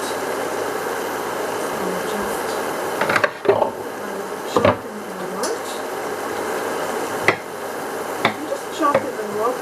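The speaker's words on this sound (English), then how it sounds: "I'm just going to chop the potatoes and I'll show you when they're chopped" Cooked potatoes being chopped with a knife on a board in a cottage kitchen, a few sharp irregular knocks rising over a steady background hum.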